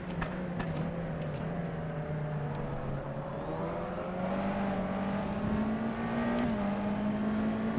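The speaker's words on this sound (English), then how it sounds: "A little bit of tire spin there." USF2000 open-wheel race car in rFactor 2 powering out of a corner, a loud steady engine drone that rises in pitch as it accelerates, with a slight waver where the rear tires spin, and no talking.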